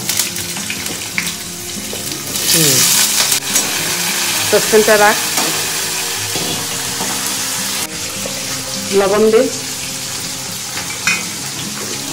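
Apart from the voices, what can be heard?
potatoes frying in oil in a saucepan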